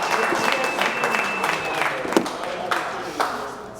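Colleagues at an all-team company meeting give a round of applause for a coworker: a continuous wash of mixed clapping, with a few sharper, louder claps standing out near the end.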